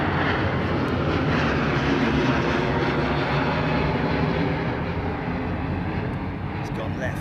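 A departing fixed-wing aircraft climbing away from the runway, a steady broadband engine roar filling the scene at a constant loud level, with a voice talking over it.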